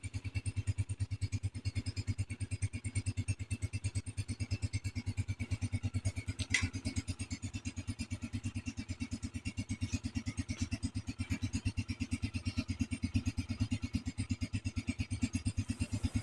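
A motorcycle engine idles steadily nearby, a low, even putter that runs unbroken throughout, with a faint clatter partway through and no talk over it.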